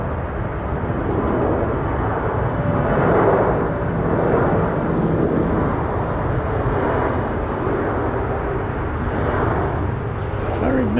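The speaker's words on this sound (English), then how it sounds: "this plane takes quite a while to take off because it's said to be underpowered with those little hairdryer engines" An airliner rolls for takeoff at Incheon airport, its engines giving a continuous, loud roar that swells gently at times, with a faint voice speaking over it.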